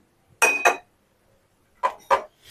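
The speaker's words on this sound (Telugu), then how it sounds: "స్టవ్ ఆన్ చేసుకుని ఇలా బాండి పెట్టేసుకుందాం" A metal kadai pan set down on a gas stove, giving two quick clinking knocks close by, a pause, then two more metallic clanks, with no talking.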